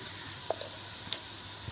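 Red chili powder in hot oil being stirred with a spoon, a soft, steady sizzle with a couple of faint scraping taps, brief and quiet, with no voices.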